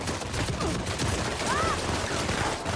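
Rapid gunfire in Uncharted 4 multiplayer, a dense continuous fusillade over a noisy game mix, with a faint voice.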